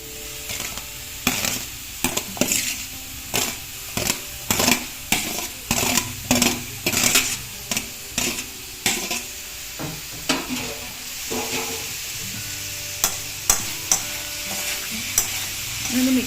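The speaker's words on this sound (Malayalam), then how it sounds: "ഇതൊന്ന് മിക്സ് ചെയ്യാം." Pineapple pieces stirred into a pickle mixture in a pan, with repeated scraping strokes in an uneven rhythm over a constant sizzle.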